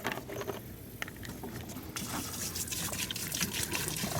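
Antifreeze glugging and trickling from a jug into pool equipment, a faint uneven pour with patter and splashes that grows a little louder and busier partway through.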